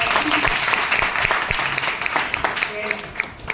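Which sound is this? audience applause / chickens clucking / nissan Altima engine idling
audience applause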